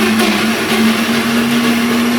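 A kitchen mixer grinder runs with water added to the jar, a loud, steady whirring hum with a constant motor tone and churning, blending noise, close by and uninterrupted, with no talking.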